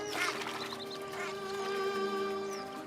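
Grey-lag geese and their goslings call from shallow salt pools in the Austrian wild, a busy mix of honking and quacking waterfowl voices over a steady low drone, close and continuous with no talk.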